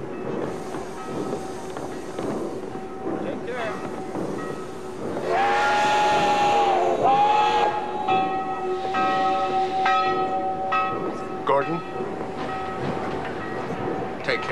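At a railway depot, a train bell rings and a steam whistle sounds with sustained tonal blasts mixing with the rumble of rail cars, loud and close, while people talk faintly underneath.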